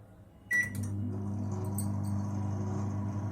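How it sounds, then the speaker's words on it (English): A microwave oven starts up with a beep and click, then hums steadily at close range while a container of gram flour dumpling curry cooks inside, with no talking. "Place container and microwave and start"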